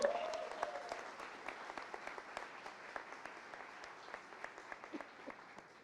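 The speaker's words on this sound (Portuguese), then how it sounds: "Então, eu queria uma salva de palmas para o Wallace" Steady applause from an audience at an anniversary celebration event, many hands clapping in a dense, even patter that slowly fades, with a brief voice at the start.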